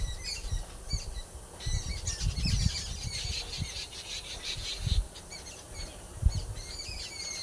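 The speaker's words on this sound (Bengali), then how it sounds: "দেখতে পাচ্ছ পাখিগুলো সব কিলবিল কিলবিল করে দেখা গাছে বসে আছে সকালে" A flock of birds sits in an ashud tree on a morning, giving many quick chirps and squeaky calls from a short distance, with low thumps and rustling underneath.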